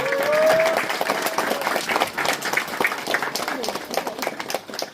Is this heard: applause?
yes